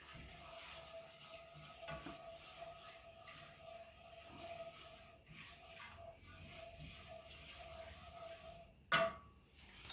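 Roux cooking at medium heat in a pan for sausage gravy, a steady soft sizzle with faint stirring scrapes throughout, and a brief louder scrape near the end.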